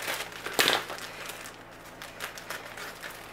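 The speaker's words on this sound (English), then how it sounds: "Scissors." A sharp crisp snip near the start, followed by a few lighter cutting clicks, close by and fairly quiet, with no voices.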